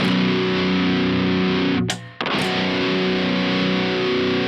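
A heavily distorted electric guitar, a seven-string Ibanez GIO with Fishman Fluence Tosin Abasi pickups, sustains a thick chord, cuts off sharply for a moment, then rings out again loud and buzzing.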